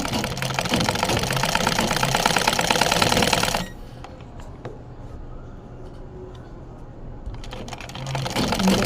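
A sewing machine runs fast and loud while stitching the folded hem of a ladies' pant leg, then stops abruptly for a few seconds of quiet handling before whirring up again.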